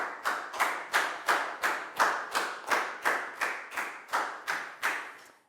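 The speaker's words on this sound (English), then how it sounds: "High five and a big round of applause for Dan, please, guys." Rhythmic clapping from a primary school class applauding a pupil, about a dozen evenly spaced claps, clear and fairly close, with no voices.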